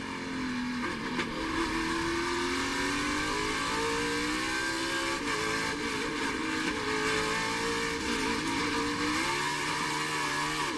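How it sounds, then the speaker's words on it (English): A NASCAR race car engine holds steady on the throttle during the 2021 Verizon 200 race, a loud, sustained high-pitched whine with shifting tones, continuous and close throughout. "So listen to Truex here in the throttle."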